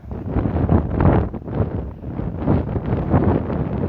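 Wind buffets an outdoor microphone in heavy, uneven gusts, a continuous low rumbling roar that swells and dips throughout with no voice heard.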